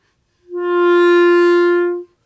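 A beginner's first clarinet tone comes out as a single steady held note of about a second and a half, clean and close, swelling in and cutting off abruptly, with nothing else around it.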